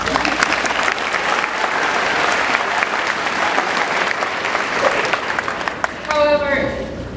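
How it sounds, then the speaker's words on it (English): A crowd at a 2023 Millington Central High School graduation applauds in a loud, dense, sustained clatter of clapping that fills the hall, then trails off as a voice comes in near the end. "So give yourselves a round of applause."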